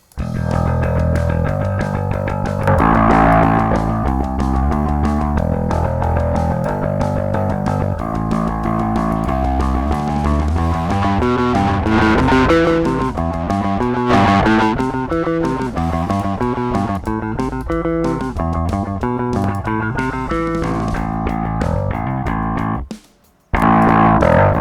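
A CLA Bass synth bass line plays with heavy distortion, a gritty, buzzing, sustained tone over a shifting rhythmic pattern that runs loudly for most of the stretch before a brief cut to silence and a return.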